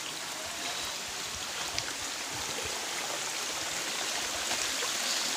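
A monsoon-season waterfall pours steadily, a dense, even rushing hiss heard close and unbroken, with no voices.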